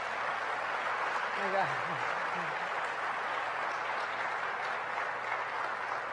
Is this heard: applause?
yes